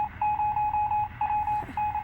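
In the survival game 60 Seconds, a telephone gives a steady electronic tone broken into repeated pulses, fairly loud and alone, with no voices.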